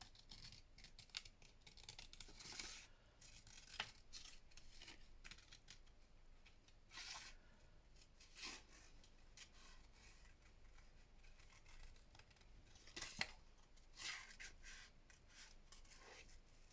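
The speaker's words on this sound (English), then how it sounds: "And just fussy cut them out." Scissors fussy cutting paper ephemera for a craft journal, with faint, soft snips and paper rustles close by in a quiet room at an irregular pace. No talking.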